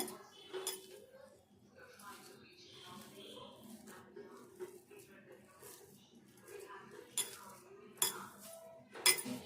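Dough being worked together with milk in a bowl, with soft scraping and occasional clinks of a utensil against the dish, heard beneath someone talking throughout.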